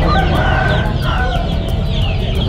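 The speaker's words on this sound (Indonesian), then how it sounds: "Ayam, ada bebek." Chickens clucking loudly and continuously at close range, a dense overlapping chatter of hens at a duck and poultry market in Amuntai, Kalimantan, with a steady busy hum underneath and no voices.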